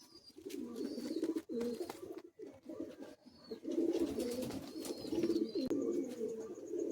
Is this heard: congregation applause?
no